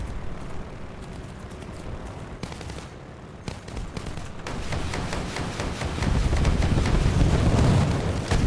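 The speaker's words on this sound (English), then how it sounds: "I just shot all those rockets at the invulnerable guys" Aircraft rockets fired in War Thunder, a dense rumbling barrage of rapid launches and blasts that builds louder toward the end over steady wind roar.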